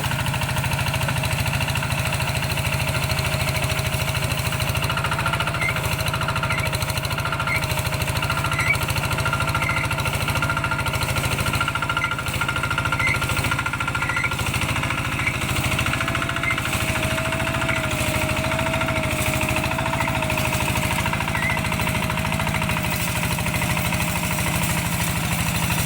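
A large farm machine's motor runs continuously at a steady, loud pace with a rough, rattling mechanical drone that holds throughout.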